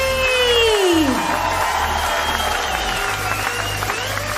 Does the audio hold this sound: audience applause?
yes